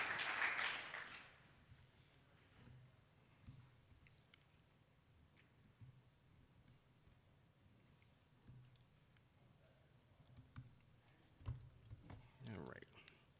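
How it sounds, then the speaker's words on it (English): Short burst of audience applause at a Drupal developer conference talk, loud for about a second at the start, then fading to quiet room tone under a presenter speaking. "So now you can clap because we just updated in real time."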